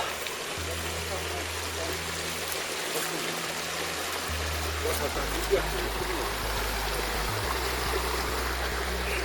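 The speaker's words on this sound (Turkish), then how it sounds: "Dereye su akıyor." A stream runs near a mountain village, a steady, continuous wash of water noise. A low engine-like hum shifts in the background throughout.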